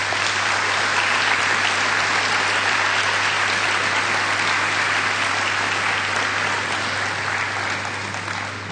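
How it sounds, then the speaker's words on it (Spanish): A congregation at a Spanish-language church service claps steadily and evenly for several seconds, a dense wash of hands with a constant low hum beneath and no voices over it. "Denme un aplauso acá al..."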